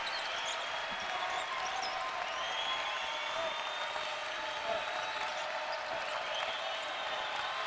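A basketball crowd at a men's college game, Central Connecticut State at Rutgers, claps and cheers in a steady, moderately distant wash of applause for the defense that holds for several seconds.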